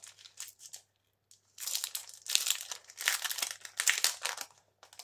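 Plastic packaging from a Temu haul is pulled and torn open up close, with a few small crinkles followed by sustained loud crackling and crumpling in rapid bursts, no talking.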